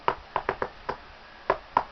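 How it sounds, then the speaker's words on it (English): Knuckles rap on a door in a rhythmic pattern: a quick run of four knocks, a pause, another knock, then two final raps. "And we have that little code knock that we do."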